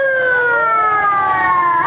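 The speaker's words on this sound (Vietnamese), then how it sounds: "rất nhiều xe cấp cứu." Ambulance sirens wailing in a busy street in Cho Lon, District 5, near several large hospitals, loud and close, with overlapping tones sliding steadily downward.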